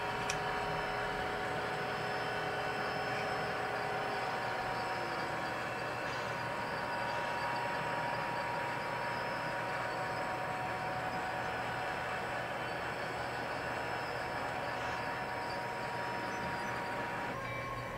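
A model train runs steadily with a constant electric hum and faint rolling whir, unchanging and moderately quiet for the whole stretch, no talking.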